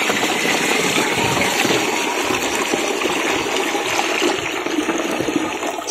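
Water gushes steadily into a sprayer tank before chemicals are mixed in for spraying eggplant crops, a continuous loud rushing pour with no pauses and no talking.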